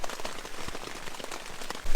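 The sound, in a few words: heavy rain falling on a tent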